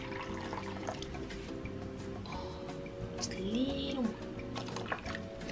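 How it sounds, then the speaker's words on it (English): Hot water trickles briefly into a bowl of cherry cobbler mix, a soft, quiet pour beneath a woman's steady chatter. "How much hot water? Half a cup."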